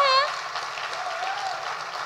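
Applause rises from the audience at an awards presentation, a fairly steady, moderately loud wash of clapping that briefly overlaps a short burst of cheering at the start.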